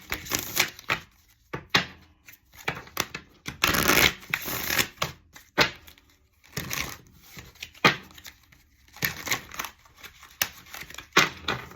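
A deck of tarot cards is shuffled for a reading, with repeated bursts of riffling and crisp card flicks separated by short pauses, close and clear with no talk.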